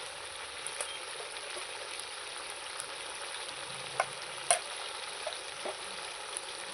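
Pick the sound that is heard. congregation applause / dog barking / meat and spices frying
meat and spices frying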